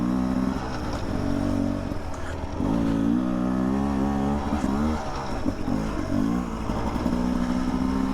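A Beta 300 RR two-stroke dirt bike with an FMF exhaust rides a narrow trail, its engine droning steadily close by with shifting pitch as the throttle rises and eases, loud and continuous with wind noise.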